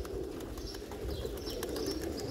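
A large flock of pigeons, hundreds of birds in a breeder's loft area, coos steadily in a dense low murmur with occasional higher chirps, continuous and moderately close throughout.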